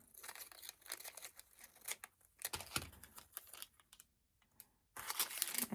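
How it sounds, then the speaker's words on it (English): Scissors cut Misty Fuse fusible web close up, with irregular crisp snips and light papery crinkling, separated by short quiet gaps. "Okay, so now I cut out my Misty fuse."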